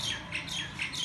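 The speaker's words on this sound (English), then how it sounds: "as you can see, the birds are singing as well, whistling actually." Birds whistling and chirping in a sunny courtyard, a quick run of bright repeated notes, clear and fairly close with nobody talking.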